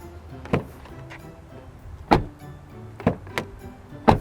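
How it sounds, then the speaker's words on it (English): Hyundai Elantra N doors shutting, a run of sharp solid thumps spaced over a few seconds, the strongest two near the end, close by in a quiet setting with no talk. "Nice door closing noises, that's good."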